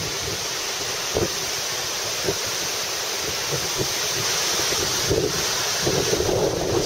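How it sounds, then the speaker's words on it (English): A strong wind gust rushes through trees in the aftermath of Tropical Storm Irene, a loud continuous roar with heavy buffeting on the microphone that swells slightly near the end. "There's a big gust. Listen to that. Look at those trees go."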